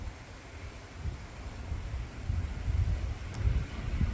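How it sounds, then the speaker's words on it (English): Strong gusting wind from Hurricane Helene buffets the microphone in a residential yard, a steady low rumble swelling into heavier gusts toward the end, with no voices. "you can see wind's picked up."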